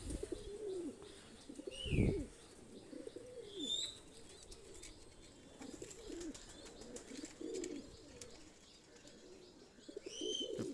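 A Kasuri male high-flyer pigeon, a Pakistani flying breed, coos in low repeated phrases up close, with sharper chirps and a burst of wing flapping near the middle, and other birds faintly in the background.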